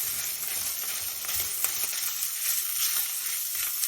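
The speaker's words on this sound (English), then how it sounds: "just turn it, stir everything" Mixed minced meat and mushrooms frying in a pot while being stirred, giving a steady close sizzle with soft scraping and stirring movements, no voices.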